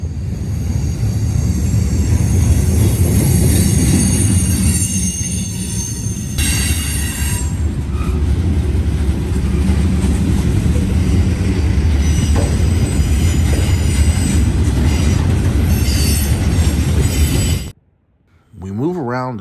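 A freight train with Canadian Pacific boxcars and gondolas rolls past close by near Marion, loud rumbling with squealing wheels and clanking cars, steady for most of the time before briefly dropping away.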